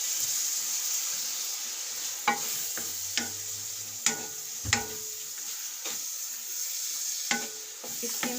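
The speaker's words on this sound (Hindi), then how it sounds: "इस कीमे को हमने अच्छे तरीके से भूनना है ताकि इसका जायका आ जाए।" Minced meat (qeema) frying in a pan for pulao, a steady sizzle with scattered clinks and scrapes of a spoon stirring, close and fairly quiet, no voices.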